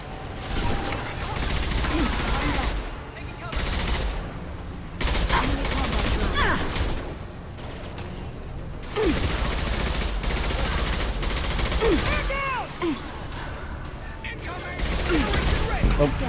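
Gunfire in the video game Mass Effect 2 rattles in repeated bursts with brief pauses between volleys, loud and close, mixed with game effects and some talking.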